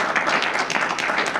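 An audience claps for a guest speaker, jerky.com owner Doug Iske, at a speaker-series session: a short, dense burst of steady applause from a small crowd, close and even, with no talking over it.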